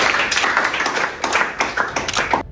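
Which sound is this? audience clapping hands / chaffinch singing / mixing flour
audience clapping hands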